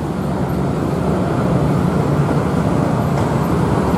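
The Ranggajati passenger train, hauled by a CC-206 diesel locomotive, idles at platform 2 of Probolinggo station, giving a steady, loud rumbling drone with station background noise and no talk.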